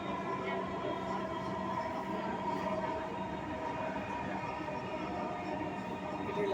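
A Dhaka metro train runs along the track, a steady close rumble and whine from inside the carriage lasting throughout, with a faint tonal hum and no speech.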